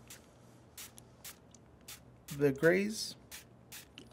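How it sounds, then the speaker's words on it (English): A spray bottle mists water onto an ink wash painting in a series of short, sharp, evenly spaced hissing bursts, with a voice speaking briefly in the middle. "We're going to spray a little bit of water just to get a little bit of a cleaner transition"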